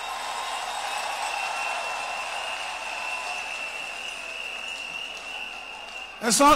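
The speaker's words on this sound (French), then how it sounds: "On va encore applaudir le président Laurent Gbagbo." Sustained applause from a large audience in a hall at a women's assembly in Côte d'Ivoire's Palais de la Culture, honouring the president; steady and fairly distant, swelling louder in the final moment.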